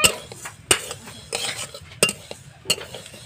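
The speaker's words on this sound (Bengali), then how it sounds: "এই দেখো আমি খিচুড়ি রান্নার জন্য মুগের ডালটা ভেজে নিচ্ছি আগে" Moong dal being dry-roasted in a pan for vegetable khichdi, with sharp metal spatula scrapes and clinks recurring every second or so over a soft, low sizzle, close by and with no talking.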